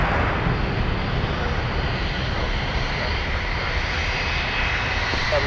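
A jet airliner roars loud and steady on its takeoff roll from runway 17 at Minneapolis–Saint Paul airport, a broad continuous rumble that holds constant without a break and has no talk over it.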